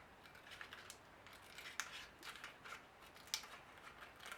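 Scissors snip softly through a paper cupcake liner, trimming around its circular base in a series of faint, quick, irregular cuts close by.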